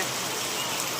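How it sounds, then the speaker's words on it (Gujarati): Steady rain hisses across the whole moment, a dense, even patter with no voices over it. "પાછો વરસાદ ચાલુ થયો છે"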